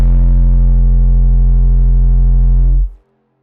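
A single sustained 808 bass sample with a hardstyle-type punch: a deep, heavy, distorted boom that holds steady for nearly three seconds, then cuts off abruptly into silence, loud and alone.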